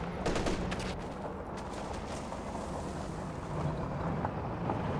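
Tank cannon and gunfire rumble in the Company of Heroes 2 strategy game, with a few sharp shots early on over a constant heavy roar of battle noise and no voices.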